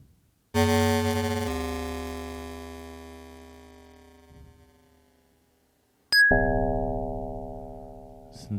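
Synthesizer tones from a Nord Micro Modular, clean sustained pitched notes that ring out and slowly fade, a short high blip, then another loud held tone with a steady buzzy hum, no talk.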